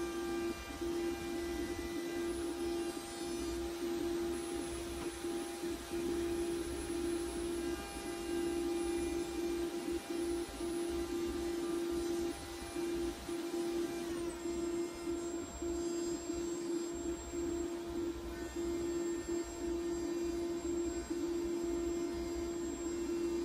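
An old Triton router runs continuously with a faulty speed controller, giving a steady loud motor whine with slight wavering in pitch, alone with no talking.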